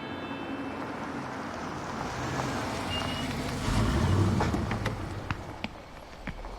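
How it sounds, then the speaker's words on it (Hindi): A vehicle pulls up in a quiet street scene. A low engine rumble swells midway, and faint scattered high beeps and clicks follow as it arrives. "लो गाड़ी भी आ गई।"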